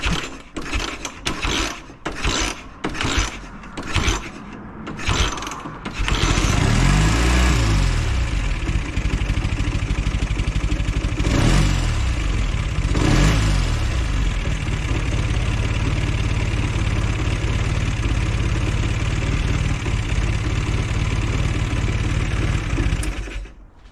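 A warmed-up Velocette motorcycle engine is kicked over several times in rapid, rhythmic mechanical thumps, then catches and runs loudly and steadily up close, with two brief throttle blips partway through.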